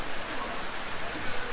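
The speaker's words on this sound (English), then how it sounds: "Well, looky what we got. A little bit of rain." Rain falling steadily on a house construction site in the Philippines, an even close hiss of drops with no pauses and no voices.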